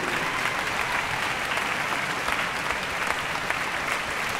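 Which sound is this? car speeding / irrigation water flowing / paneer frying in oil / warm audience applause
warm audience applause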